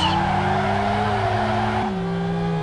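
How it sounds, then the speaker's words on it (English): High, thin engine whine from a Formula 1 car in the Assoluto Racing sim game, a steady buzzing drone with rising and falling pitch, loud and close, with some tire scrub underneath. "I don't know which car that is, that sounds so horrible. It sounds like a mosquito."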